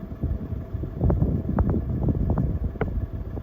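Strong gusting wind outside an open window on a windy day, a continuous rumbling roar with uneven buffeting surges, heard alone with no voices.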